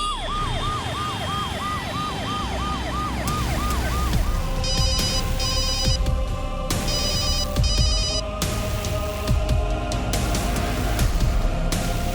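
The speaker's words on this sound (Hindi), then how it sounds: "पता नहीं फोन क्यों नहीं उठा रहे हैं।" A phone rings unanswered in a crime drama scene, a warbling electronic tone that repeats in quick pulses, then gives way to sharper chirping bursts over a dense, tense background score.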